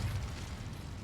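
A fiery Incendio spell cast in the Hogwarts Legacy video game, a short low rumbling burst with crackling whoosh that stays loud through about a second, no talking over it.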